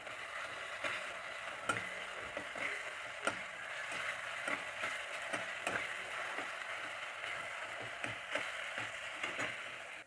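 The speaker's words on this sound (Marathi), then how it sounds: "कांद्याला छान भाजू द्यायचं आहे ब्राऊन होईपर्यंत भाजून घ्यायचा कांदा" Chopped onion with ginger-garlic and coriander paste fries in a pan, a soft continuous sizzle broken by regular scrapes and taps of the spoon against the pan, with no voices.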